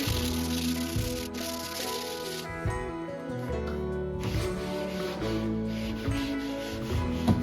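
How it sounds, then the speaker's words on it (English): Sandpaper scuffing a snowboard in a steady, close, rhythmic rubbing with short strokes back and forth, continuing without a break. "between the sandpaper and acetone, I think the board's going to be ready to paint"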